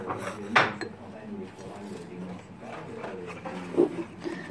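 A utensil stirs chocolate, milk and vanilla sugar batter in a bowl for a chocolate cake, making close clinks and scrapes against the bowl with a few louder knocks, while a person speaks softly underneath.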